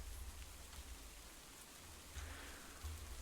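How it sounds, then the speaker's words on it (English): Steady rain in a Farming Simulator 25 game, a continuous soft hiss of falling drops with a low rumble underneath, heard alone with no talk. "Maybe this rain will go away."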